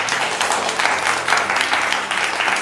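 A group claps for a team at a gift-box wrapping activity, the applause close and continuous with slight pulses in intensity and no voices.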